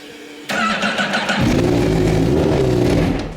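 A 240-horsepower TT racing motorcycle engine catches and fires up loudly, settling into a rough, throbbing idle with some revving, close by in a garage.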